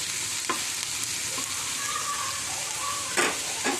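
Prawns and spring onions sizzle steadily in a frying pan while being stirred, with a continuous hiss and a few brief scraping clinks of the spatula against the pan.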